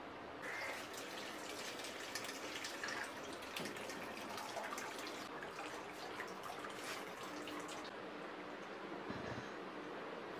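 Boiled grape water is poured into a vessel of beetroot sugar water for homemade red wine, giving a steady splashing, trickling flow that runs continuously and close by without talk.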